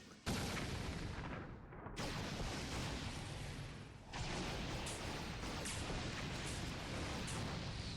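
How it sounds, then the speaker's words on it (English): Sustained roaring blasts of a missile explosion finishing move in the Space War Arena video game, loud and broadband, with a fresh burst near the start and another swell midway, rumbling continuously with no talk. "Incoming missile, finishing move."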